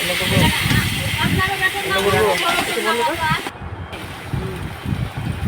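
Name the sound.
water added to frying spice masala in a kadai, sizzling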